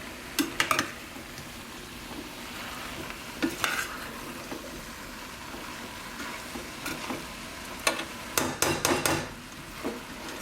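Wild rice pelau being stirred in a cooking pot, with a spoon scraping and clinking against the metal in irregular bursts over a steady low background, with no talking.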